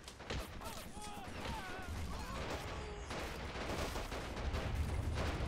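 Dense gunfire and artillery blasts from a Men of War: Assault Squad 2 Pacific battle on Borneo form a continuous loud barrage of rattling shots and booms, with voices shouting faintly beneath.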